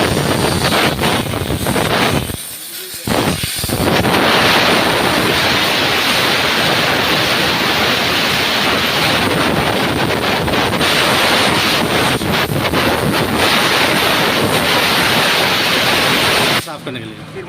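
A pressure washer sprays a motorbike chain clean, giving a loud, continuous broadband hiss that stops briefly early on and then keeps blasting steadily until near the end.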